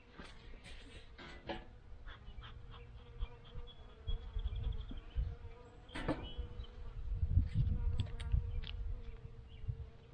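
Honeybees buzz around an open hive during an early spring brood inspection, a close, faint, continuous drone with individual bees passing near, and occasional frame handling clicks.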